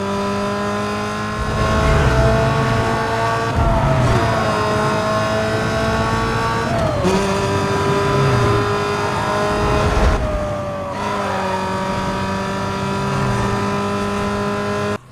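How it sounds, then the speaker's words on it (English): Racing-game car engine from Need for Speed Most Wanted (2005) roaring through a tunnel, loud and close with a hollow reverberant echo, rising in pitch through repeated gear shifts with brief dips between pulls. "we are back with 2005's Most Wanted to hear the engine sound bounce off the walls of a tunnel"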